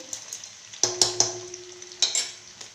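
A spoon stirs tomatoes into fried onions in a pan, giving a handful of sharp scraping taps over a faint, steady sizzle, with no talking.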